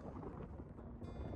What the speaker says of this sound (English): Super, super windy. A lot of headwind.